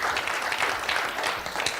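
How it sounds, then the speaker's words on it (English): Round of applause from an audience at a panel discussion kicking off a circular economy project in Indonesia, moderately loud and steady clapping that fills the whole moment without speech. "please, once again, give a round of applause for all our amazing panelists here"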